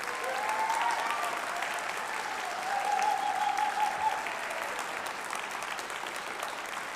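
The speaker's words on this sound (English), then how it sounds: "let's give a big round of applause for all of our student performers tonight" Concert audience at a spring band and orchestra performance applauds the student performers, sustained clapping from a large room with a few brief tonal whistles or cheers rising above it, steady throughout.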